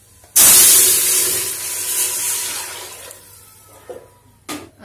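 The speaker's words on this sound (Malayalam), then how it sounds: "വെള്ളം ചേർത്ത് കൊടുക്കാം, 6 ഗ്ലാസ് വെള്ളം." Six glasses of water are poured into a pot of cashew nut beef biryani, a sudden loud gushing splash that fades out over a few seconds, followed by a few faint clinks.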